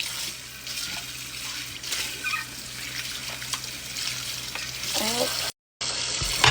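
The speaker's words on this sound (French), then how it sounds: "Elle est interminable cette vaisselle." Dishes being washed at a kitchen sink, with running tap water, splashing and clinking of plates and cutlery over steady background hum, continuing for several seconds with a brief dropout near the end.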